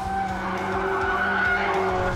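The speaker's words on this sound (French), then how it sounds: "Un petit dérapage agréable." Tires squealing as a car drifts on a racetrack, a sustained, wavering screech over engine drone, close and continuous with no talk.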